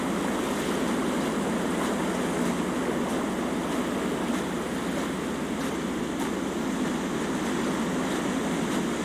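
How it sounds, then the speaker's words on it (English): Waves wash against the shore of an island in the game Dear Esther, a steady broad roar of surf with no talking. "Just the sound, those waves crashing"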